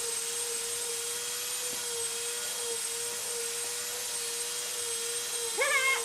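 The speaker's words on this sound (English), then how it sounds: "rapidly rotating power tool" A power tool spins at high speed with a steady, piercing whine that holds throughout, close up, rising sharply near the end.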